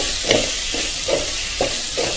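A spice paste for black pomfret curry being stirred and fried in a pan: a steady sizzle runs throughout, broken by about five soft rhythmic scrapes of the spoon at regular intervals, close and clear with no talking.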